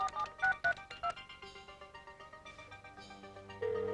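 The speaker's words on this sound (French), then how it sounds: "Tiens, Kim, ça sonne." A telephone rings in a 1988 thriller scene, a few quick electronic tone bursts at the start followed by sustained ringing tones, fairly quiet and without speech over it.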